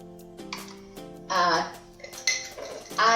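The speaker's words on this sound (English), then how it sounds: "I'll take a small bowl" A small bowl is picked up and handled in a home kitchen while a sweet carrot, pineapple and raisin salad is being made. Several close, light ceramic clinks and knocks come in short bursts.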